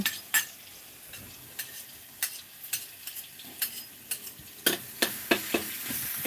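Garlic sizzles in a little oil while being stir-fried, a quiet steady hiss broken by repeated sharp scrapes and clinks of a utensil against the pan, roughly one every half second, with no talking.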